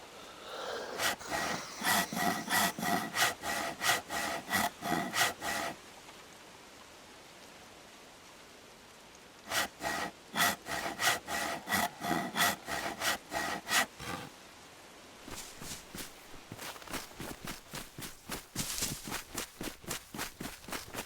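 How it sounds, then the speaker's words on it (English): A handsaw cuts through wood in the video game DayZ, with repeated rapid back-and-forth rasping strokes in three separate bursts, steady and clear with quiet pauses between, no talking. "let's go ahead with the handsaw first."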